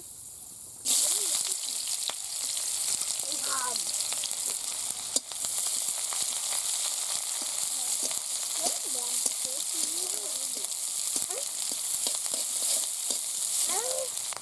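Nigella seeds and chopped onion frying in hot oil in a village kitchen, a steady loud sizzle with occasional crackles and spatula scrapes throughout.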